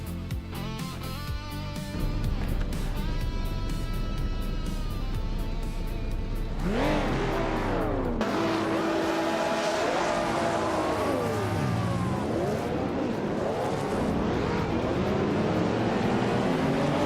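Racing cars, including a Ferrari and a Tundra, roar along a track, engines revving and rising and falling in pitch as they sweep past, loud and continuous throughout.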